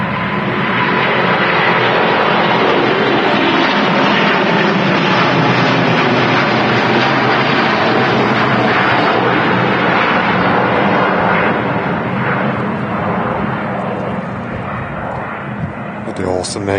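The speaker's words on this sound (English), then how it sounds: "Awesome A350-900 heading out to Houston" Singapore Airlines Airbus A350-900 on its takeoff roll at Manchester Airport, bound for Houston: a loud, close, sustained jet engine roar with broadband rumble that holds steady for most of the span, then eases slightly near the end.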